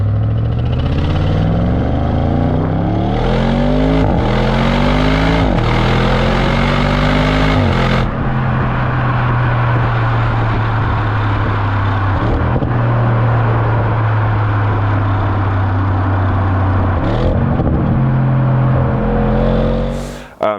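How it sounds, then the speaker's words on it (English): An Audi RS6 with a V8 engine accelerates hard, its loud exhaust note climbing through several rising sweeps with brief gear-change dips, then settling into a steady cruising drone. "You feel that V8 exhaust note"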